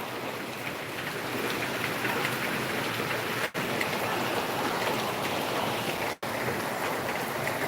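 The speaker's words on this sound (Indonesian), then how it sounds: "Tapi hujan masih tetap berlanjut." Heavy rain pours steadily during a flood in a residential housing complex in Palembang, a dense, even hiss of drops on water and surfaces, close and unbroken apart from two momentary cuts.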